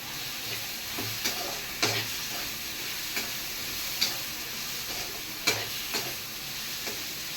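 Pirandai (adamant creeper) sautés in hot oil with rock salt, giving a steady low sizzle with intermittent clicks and scrapes of a spoon stirring in the pan. The sound is close and continuous, with no talking.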